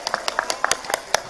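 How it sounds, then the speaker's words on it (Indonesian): Crowd clapping for students at an Islamic religious gathering in Ciamis, a short burst of rhythmic, close handclaps. "Tepuk tangan dulu buat santrinya"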